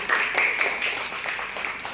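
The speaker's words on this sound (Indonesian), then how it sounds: "tepuk tangannya dong untuk Dika" A classroom of students claps for a classmate named Dika during an elementary school lesson, a short burst of scattered hand claps close to the microphone for about two seconds.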